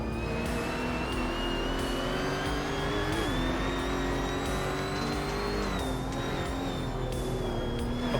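A flat-six race car engine in a racing video game holds a steady, loud, continuous high drone with sliding pitch as revs rise and dip, other cars faintly layered beneath.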